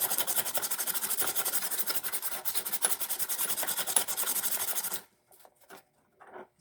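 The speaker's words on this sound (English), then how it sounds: "And of course we're going to go with the sandpaper." Steady rasping strokes of sandpaper against a lawn mower part during a restoration, close and continuous for about five seconds before stopping, followed by a few faint scrapes.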